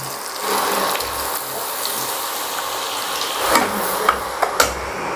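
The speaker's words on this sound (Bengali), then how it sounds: "2 চামচ বাটার দিয়ে দেবো।" Two spoons of butter hit hot oil left from frying potatoes, giving a steady close sizzle with a few sharp crackles and pops near the end.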